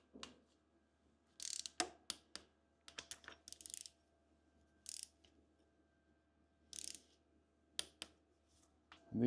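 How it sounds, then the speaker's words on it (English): A torque wrench ratchets timing belt cover bolts on a Land Rover Defender engine build, quick close clicking bursts separated by short quiet gaps, with no voices. "torque them all up. Timing belt cover bolts, 25 Newton meters"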